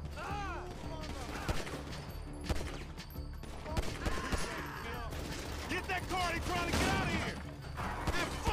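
Gunfire from Grand Theft Auto V, several close, sharp shots scattered through a busy mix of game sound and music, with people talking over it.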